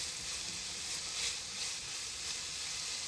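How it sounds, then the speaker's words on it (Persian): Onion, carrot and minced garlic sizzle steadily in a hot frying pan, a continuous bright hiss with faint crackles throughout, fairly quiet and with no talking. "به مدت 2 دقیقه پیاز و هویج و سیر رو سرخ میکنم"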